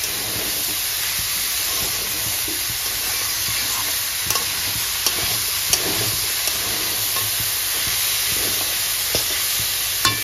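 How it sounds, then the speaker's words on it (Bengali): Boiled banana flower, chickpeas and spices stir-fry over a high flame, a loud continuous sizzling hiss with occasional light clicks of a spatula against the pan, steady throughout with no talking. "এবার হাই করে দিয়ে খুব ভালো করে মোচা ছোলা মশলা একসাথে সব কষে নেব"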